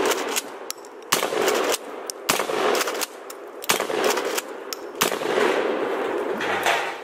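A Kel-Tec KSG 12 gauge pump shotgun loaded with buckshot fires a rapid string of loud, booming blasts about every second, each with a sharp crack and a reverberant tail, no talking.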